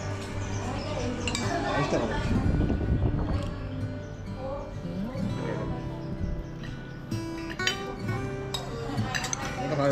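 Spoons and chopsticks clink against dishes during a rice meal with chutney and sauce at a Phuket eatery, light repeated chinks scattered over a busy room hum, with people talking throughout.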